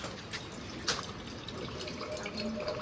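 Water drains from a cracked coconut into a pot as a soft, steady trickle with a few drips and splashes, close by and without talk.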